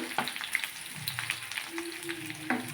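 Cluster beans, garlic, curry leaves and onion sizzle steadily in a hot pan, with scraping stirs and occasional light clinks of a utensil.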